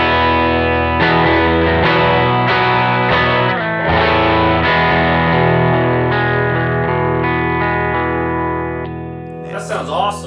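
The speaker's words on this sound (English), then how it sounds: "Bridge pickup, this is the clean tone." Electric guitar with a Stratocaster bridge pickup played with a clean tone, a sustained strummed chord pattern ringing out with a bright, full sound, ending in a brief noisy scrape.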